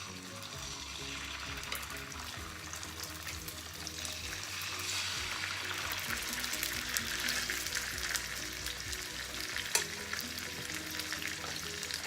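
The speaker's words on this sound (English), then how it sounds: "Put in the skin part of the salmon." Salmon skin fries in a pan of hot oil, giving a continuous close sizzle with crackling that builds gradually over the full length. Nobody speaks.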